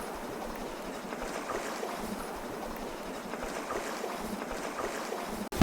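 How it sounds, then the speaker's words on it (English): Gentle waves lap against the hull of a sailboat out on the Chesapeake, a steady soft wash of water with faint wind noise, no voices, closing in a brief louder bump. "It's nothing but the waves lapping gently at the hull."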